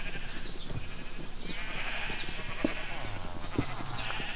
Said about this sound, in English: That's noisy sheep.